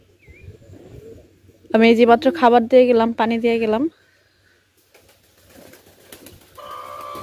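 Pigeons in a small home flock coo softly nearby, low throaty calls mixed with brief chirps, partly under a person speaking close to the birds.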